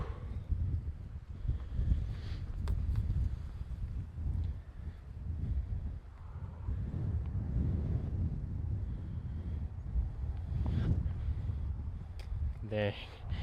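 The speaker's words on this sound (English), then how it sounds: "Wow, this wind is something else." Strong gusts buffet a microphone outdoors on an open hillside, a loud, continuous low rumble with fluctuating bursts throughout.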